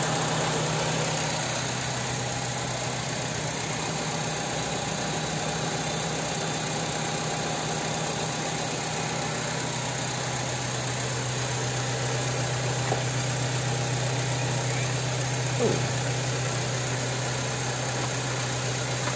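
An old BMW engine (M52/M54) idles steadily while warming up, with a constant low hum and whine, close and unchanging throughout.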